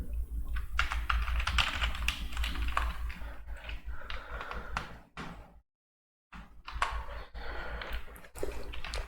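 Brisk, steady clicking of a computer keyboard as a purchase voucher is typed into Tally Prime accounting software, pausing briefly near the middle before the keystrokes resume, with no voices.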